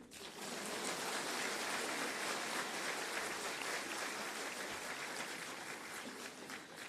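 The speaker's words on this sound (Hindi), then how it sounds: "ताली नहीं मारेंगे?" Steady applause from an audience at a university convocation ceremony, the Hemvati Nandan Bahuguna Garhwal Central University 11th convocation, a dense even wash of clapping that swells in quickly and holds for several seconds.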